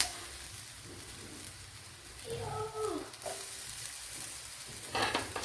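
Sweet potato snacks laid into hot oil on a dosa griddle give a steady, moderate sizzle that swells briefly partway through, with light scraping and stirring noises and no voices.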